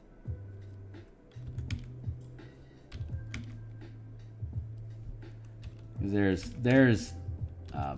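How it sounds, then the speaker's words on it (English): Computer keyboard typing runs as a steady patter of soft, close clicks under a low background hum, with a louder burst of voice or noise near the end. "I don't spend a lot of stream time typing the text for this adventure"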